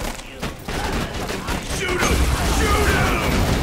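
Grenade launcher fire in the video game Borderlands 2, a dense run of booming shots and blasts continuing under a backdrop of game noise, with voices talking over it.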